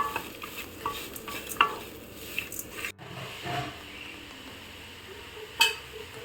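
Grated coconut roasting in a pan for carrot beetroot thoran, with soft dry stirring and scraping, occasional sharper utensil knocks against the pan, and a quiet, close sizzle; no voices.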